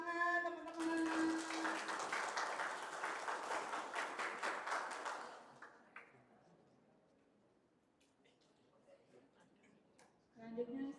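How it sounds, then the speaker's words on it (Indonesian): Audience applause at an awards event, a sustained burst of clapping that fades out midway, followed by quiet room noise and a brief voice at the end. "Tepuk tangan teman-teman."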